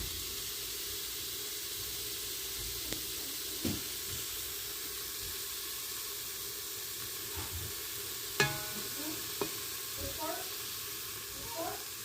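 Steady sizzling hiss of chili rice frying in a pan, with a few soft clinks and knocks of stirring scattered through.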